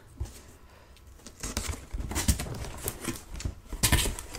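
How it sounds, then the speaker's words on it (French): Stubborn packing tape being peeled off a cardboard box, a close series of irregular crackling rips and tearing bursts that grow louder toward the end. "Ah, il y a un scotch qui me résiste."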